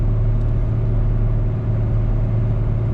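A car cruising in fourth gear at about 80 on the 103 highway, giving a steady loud low engine drone and road rumble that stays constant throughout, with no voices.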